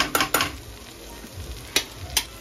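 Cooked vegetable curry being stirred in a pan in a home Indian kitchen, a few sharp spoon scrapes and clinks against the metal over a soft sizzle, close and fairly quiet, with no talking.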